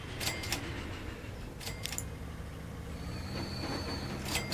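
A train in the Transport Fever 2 game rolls past with a rumbling rail bed, metallic jangling clicks and short bursts of wheel squeal scattered through, moderately loud and without talk.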